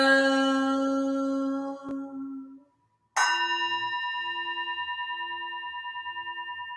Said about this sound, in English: evening bell